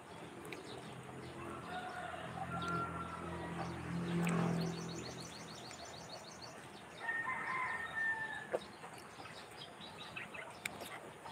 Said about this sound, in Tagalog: Yan, may manok.